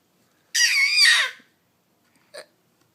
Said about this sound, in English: What about your hiccups?